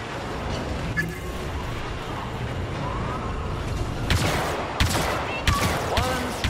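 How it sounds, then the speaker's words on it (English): Blaster gunfire in the Star Wars Battlefront 2 video game, several loud sharp bursts in quick succession over a constant busy battle background. "When I open fire,"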